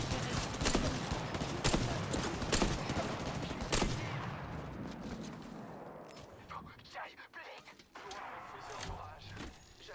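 Gunfire in the shooter game Apex Legends, rapid bursts of sharp shots in quick succession, then sparser single cracks and impacts, loud and close, with someone talking over parts of it.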